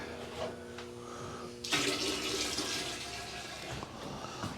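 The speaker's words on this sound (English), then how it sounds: "I'm gonna pour some bleach in it." Bleach rushes and splashes loudly into a toilet bowl, starting abruptly partway through and continuing steadily with a hissing wash of liquid.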